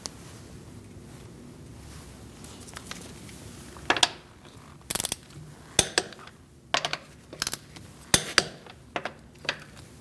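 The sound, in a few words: torquing car wheel lug nuts with a torque wrench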